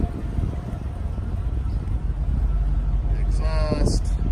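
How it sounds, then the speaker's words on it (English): A 1965 Imperial Crown convertible engine idles with a steady low rumble, close and continuous, with some wind buffeting and a brief bright chirp near the end. "Listen to the engine."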